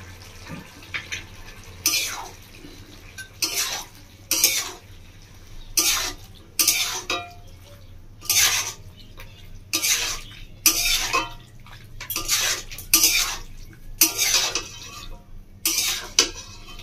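Pasta stirred through dry, clumped spices in a pan for paneer pasta, producing repeated bursts of scraping and clattering about every second and a half, close and fairly loud over a low steady hum.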